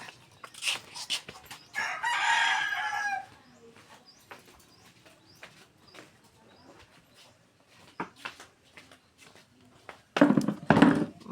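Rooster crowing with chickens clucking in a rural Philippine setting: a loud crow bursts early, scattered clucks and pecking sounds follow, then another close, loud crow near the end.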